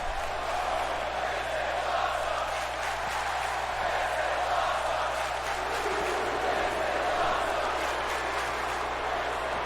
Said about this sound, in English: And you hear it from the crowd